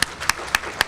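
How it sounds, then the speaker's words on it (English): A handful of sharp, separate claps from an audience at a volunteer breakfast, spaced roughly evenly and fairly close, like the scattered start of a round of applause. "So I think that deserves a round of applause."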